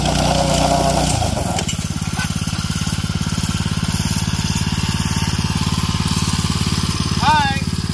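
A mini bike with a 212cc engine revs hard into a burnout, a rapid, loud buzzing drone that jumps in pitch after an idle, holding at high revs close by.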